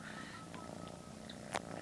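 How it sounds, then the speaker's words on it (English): A cat purrs steadily close by, a soft continuous rumble with a brief higher chirp near the end, and no one talks over it. "the cat wants to be on camera"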